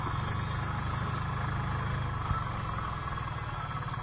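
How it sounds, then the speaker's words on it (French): A Ligier car engine runs steadily at idle, a continuous low rumble that stays even and close throughout, with a single faint knock partway through. "je vous mettrai le son à fond de la voiture"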